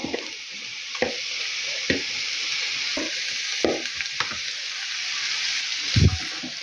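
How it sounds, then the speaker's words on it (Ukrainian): Shredded cabbage and carrots frying in a pan and being stirred, a steady hiss of sizzling oil broken by regular knocks and scrapes of a utensil, with a louder clatter near the end. "Перемішаю отак її гарнесенько."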